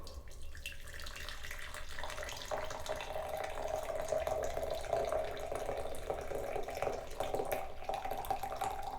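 Hot coffee poured from the carafe of a Behmor Connected coffee maker, a steady continuous liquid stream close by that runs for several seconds without a break.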